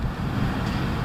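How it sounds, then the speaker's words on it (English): Steady low rumbling wind buffeting a microphone, constant and fairly loud throughout with no voices. "Sorry about the wind."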